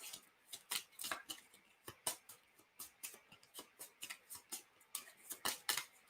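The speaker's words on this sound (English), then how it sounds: "so I'm gonna shuffle" A deck of playing cards being shuffled close up, a quick series of crisp riffling snaps and flutters in uneven bursts, faint and with no talking.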